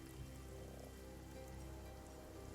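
Light drizzle falls in a wet swamp, a steady soft patter of raindrops spread evenly across the whole stretch with no voices.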